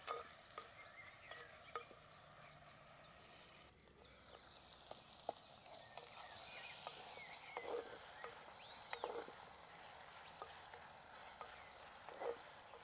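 Dried prawns with onion and green chillies frying in a pan for an Andhra-style gongura dish, a soft continuous sizzle with occasional small pops and stirring clicks, quiet and steady with no talking.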